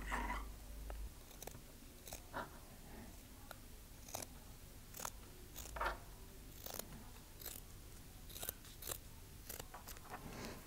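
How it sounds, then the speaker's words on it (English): Scissors snip through the seam of a cotton t-shirt, a series of quiet, crisp cutting crunches at an irregular rhythm, close and faint with no voices. "we will cut the seam of the t-shirt"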